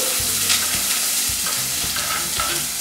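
Vegetables with peppers and carrots stir-fried in a hot pan, a loud continuous sizzle with rhythmic scraping and tossing strokes every half second or so, close up with no talking.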